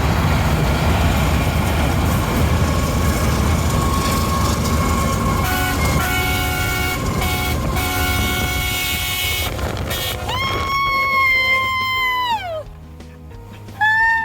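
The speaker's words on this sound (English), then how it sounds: "we got the train to blow back at us" A loud rumbling train rolls past, then its horn sounds a long multi-tone blast that slides down in pitch and cuts off.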